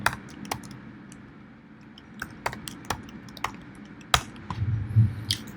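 Typing on a computer keyboard, close-up with scattered sharp key taps at an irregular pace, a denser burst of keystrokes near the end over a faint background hum, no voices.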